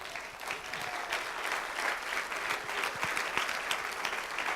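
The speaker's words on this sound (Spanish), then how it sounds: "Dele un aplauso al Señor." A church congregation applauds during a sermon, a dense, steady wash of many hands clapping throughout, moderately loud and without speech.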